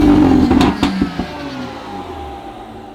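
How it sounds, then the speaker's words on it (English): BMW M2 F87 with a new intake and exhaust revs hard at close range, loud engine roar with turbo whoosh, then eases off to a lower steady drone as the car settles into cruise. "So you hear the turbo a lot more now."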